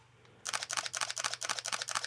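After a quiet moment, a single-lens reflex camera fires in burst mode, a rapid, even run of about a dozen sharp, close shutter clicks.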